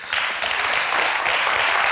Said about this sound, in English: give a big round of applause also for our jury here